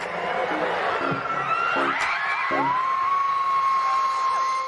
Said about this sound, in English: the crowd cheered loudly